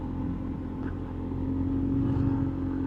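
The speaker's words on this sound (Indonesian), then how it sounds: "Masih enak ini motor ini buat nanjak" Motorcycle engine pulling steadily uphill on a riding route, a continuous low rumble with a constant drone that swells slightly toward the end, no sharp revs and no talk over it.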